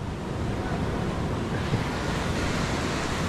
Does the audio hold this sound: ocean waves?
yes